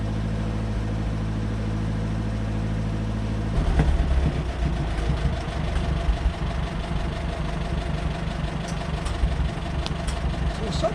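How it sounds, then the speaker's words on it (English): An old tractor engine idles steadily with a deep, even low rumble, then picks up a rougher, busier chug with light clattering knocks partway through. "have to fire up this old tractor"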